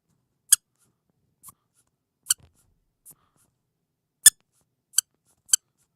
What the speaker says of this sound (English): He is squeaking. Like a duck should.